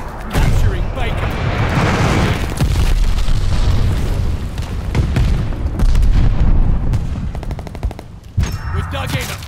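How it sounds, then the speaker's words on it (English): Heavy booming blasts from an enemy glide bomb in the WWII shooter Call of Duty: Vanguard mix with rattling machine-gun fire and dense battlefield noise, while a voice speaks over the chaos. "Enemy glide bomb incoming."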